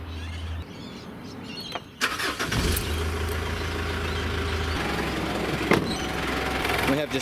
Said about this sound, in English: We have just started up, it's got fresh oil in it.